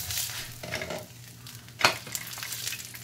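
Hurda thalipeeth cooks in a hot pan with a soft continuous sizzle, broken by a few brief scraping sounds and one sharp clatter, close and quiet.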